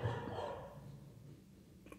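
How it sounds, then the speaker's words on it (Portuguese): A dog barks, the barks loud and close at the start and then fading into a low rumble of background noise, with a faint sharp sound near the end. "O meu cão está latindo e..."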